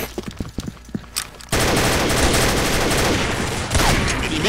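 Gunfire in the online shooter Combat Arms: scattered single shots for about a second and a half, then a dense, loud, sustained burst of rapid automatic fire filling the rest, close and unbroken, no talk.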